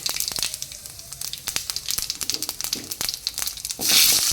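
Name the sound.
whole white cumin seeds sizzling in hot oil tempering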